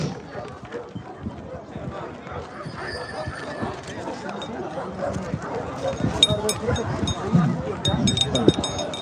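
Kangal dogs bark amid a busy crowd at a Kangal dog contest in Afyon. The barks are scattered through the clip under constant chatter and a growing murmur of spectators.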